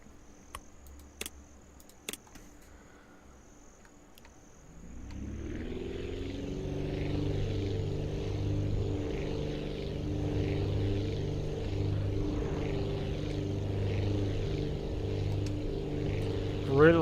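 A propeller airplane in the video game Aviassembly starts up and takes off, its engine droning in a steady loud hum with rising tone after a few seconds of quiet clicks, and a person talks over it.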